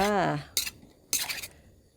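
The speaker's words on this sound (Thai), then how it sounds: "เสร็จแล้วตักเสิร์ฟใส่จานเลยค่ะ" Utensils scrape and clink against a pan and plate while instant noodles with clams and shrimp roe are served, two short metallic bursts following a brief voice at the start.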